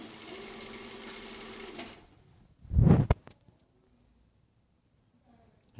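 A sewing machine stitches a neckline seam in a steady, close run of about two seconds, then halts. A brief rustling thump of fabric being pulled follows, and the clip ends in near silence.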